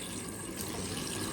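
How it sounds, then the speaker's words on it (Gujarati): Water pours steadily into a cooking pot of crabs, a continuous splashing gush close by that holds at an even level with no talk. "એટલું પાણી નાખું છું"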